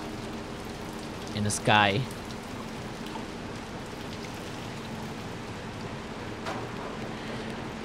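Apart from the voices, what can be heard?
rain falling in video game Little Nightmares II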